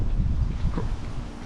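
Gusty wind blowing outdoors in a yard during autumn leaf cleanup, a steady broadband rush with buffeting low rumble across the whole stretch, fairly loud and close to the microphone.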